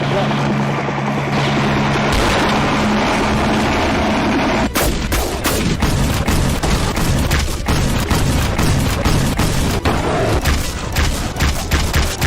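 A jungle is carpet-bombed in a hunting video game, with loud dense explosions and crackling gunfire in a continuous roar, sharp blasts punching through a steady rumble and an engine drone beneath.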